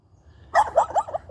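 A dog gives a short burst of several quick barks close by, muffled by a milk bone held in its mouth.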